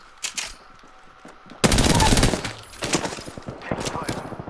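Gunfire in Apex Legends, a few sharp early shots followed by a dense burst of automatic fire and scattered rapid shots, loud and close, with players' voices mixed in.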